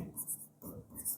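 Writing strokes on a board during a chemistry lecture come as three short, scratchy bursts in a loose rhythm, with quiet, low speech beneath them.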